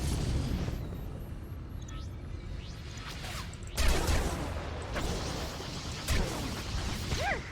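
Missiles fired in a space battle in Star Wars: The Old Republic, heard as whooshing launches and muffled booming blasts against a constant engine rumble, with two stronger bursts standing out near the middle and toward the end.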